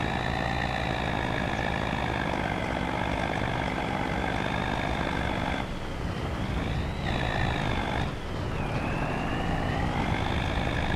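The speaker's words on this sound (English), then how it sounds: "you can see I'm losing momentum going up this little hill with this truck" A truck in Farming Simulator 25 hauling a trailer uphill, its engine holding a loud, continuous whining drone that dips and strains in pitch as it labors, heard alone.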